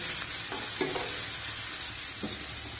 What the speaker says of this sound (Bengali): পেঁয়াজটা দেবো এবার, একটু ভাজা ভাজা হবে